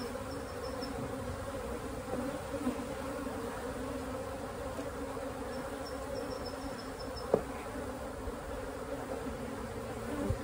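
A swarm of honeybees is tipped from a bucket into a medium hive box on top of combined swarms, giving a steady, dense buzzing drone close by with a few faint knocks.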